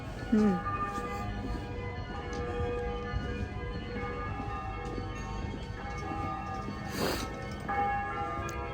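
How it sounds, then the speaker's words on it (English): Church bells ring on and on in the distance in Amsterdam, their sustained tones hanging over a steady background hum of street noise. "Those bells have not stopped."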